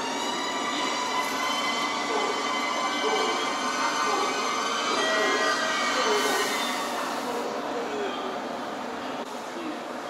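JR limited express trains, including a 787-series electric train, at Hakata Station, with a steady rumbling train drone, wheel and rail noise and faint high squeals filling the platform continuously, loud and close, with a voice speaking underneath.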